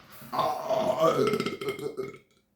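One long, loud, drawn-out burp lasting a couple of seconds, up close and on its own, likely a person belching deliberately.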